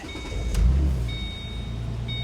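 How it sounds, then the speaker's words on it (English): A Ford Mustang engine cranks briefly and catches, then settles into a steady, close idle rumble. "We're going to start the car. Starts great."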